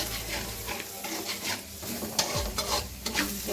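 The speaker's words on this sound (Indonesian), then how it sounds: "Kita aduk kembali" Steady sizzling of jengkol balado frying in a pan with chicken stock and seasoning, with scraping and stirring strokes of a utensil, close and continuous.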